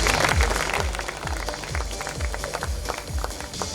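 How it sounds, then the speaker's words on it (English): An audience at a 2019 squash club international event applauds, a busy patter of clapping with repeated low thuds under it, moderately loud and sustained throughout. "let's give him a round of applause, please."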